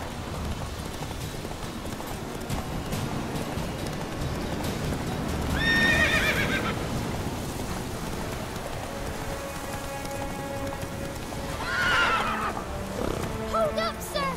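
Hooves clip-clop steadily in The Witcher 3 game as a horse runs, with two loud whinnies rising over the hoofbeats, a soft rain hiss beneath throughout.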